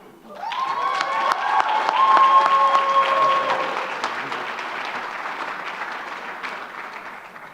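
Applause rises for graduates at the Yo San University commencement, swelling into full clapping that lingers over ceremonial music with sustained tonal notes early on.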